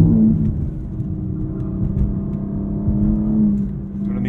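A 2022 BMW M4 Competition xDrive's turbocharged engine drones loud and close under hard acceleration, a low steady rumble with a rising whine and no talking.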